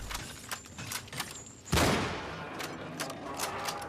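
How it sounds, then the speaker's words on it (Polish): Gunfire in the video game Cryostasis: a scatter of sharp shots leads to one loud blast with a long decaying tail, followed by fainter scattered reports. "Ostatni strzał."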